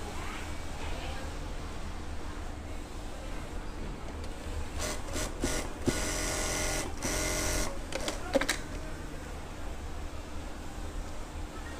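A sewing machine runs a test seam to check thread tension, with a few short bursts of whirring stitching in the middle, close and fairly loud against a quiet room hum.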